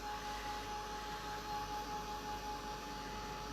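A heat gun drying paint on an altered-door keepsake craft project blows with a steady, loud, close-up whoosh that holds even throughout, with no voices.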